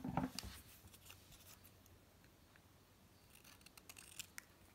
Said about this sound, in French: Je vais découper ici pour mettre ce morceau-là